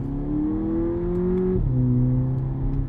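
A 2018 VW Polo GTI accelerates hard, its engine note climbing steadily in pitch before a brief drop at a gear change, then rising again, loud and heard from inside the cabin.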